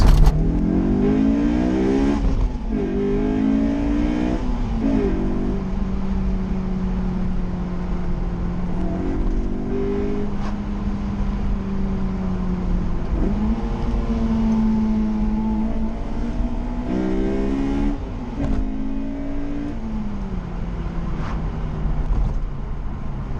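A Honda S2000 sports car driving from inside the cabin, engine repeatedly revving up through gears with rising pitch and shifts, loud and steady throughout.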